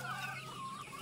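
Native hen clucking on a mountain farm, a short, faint cluck close by, with no one speaking.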